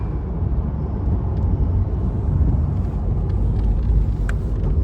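Car interior on a road trip between Calgary, Banff and Jasper: a steady low rumble of engine and tyres on pavement, close and even throughout, with faint higher ticks and no speech.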